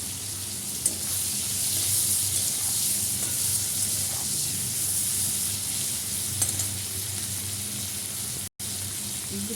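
Shrimp, cumin seeds and chilli sizzling in hot oil in a pan, a steady loud crackling hiss that carries on throughout with small spatters and stirring sounds, no voice over it.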